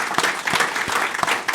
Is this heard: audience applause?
yes